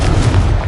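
Confringo fire spell in Hogwarts Legacy bursting in a short, loud, low booming explosion that fills under a second with no distinct onset or tail, dense and close.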